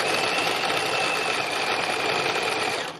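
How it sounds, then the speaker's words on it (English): A sewing machine hums and whirs continuously while stitching a textile landscape picture, a loud, steady close-up drone that carries on alone for the whole stretch. "I'm just doing stitching, and when I've done enough stitching I'll stop."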